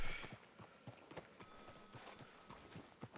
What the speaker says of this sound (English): Watch out for the horse.